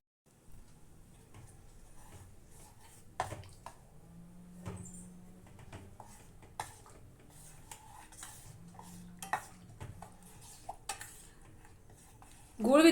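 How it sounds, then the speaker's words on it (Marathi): A spoon scrapes and clinks against a pot of jaggery dissolving in water in irregular, soft strokes, steady stirring close by, with a louder clatter at the end. "आपल्याला हे सतत ढवळत राहायचंय"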